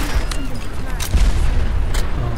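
An enemy gunner fires in the Fallout 4 video game, a few loud bursts and booming shots amid constant combat noise, with a voice talking over it.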